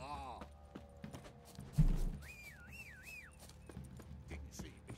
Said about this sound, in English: I'm getting my horsey.